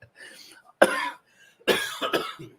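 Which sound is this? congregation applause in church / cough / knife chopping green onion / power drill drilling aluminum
cough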